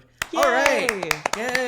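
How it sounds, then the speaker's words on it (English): A few sharp hand claps ring out sporadically beneath cheerful voices, up close and bright. "That's the sound of clapping in the background."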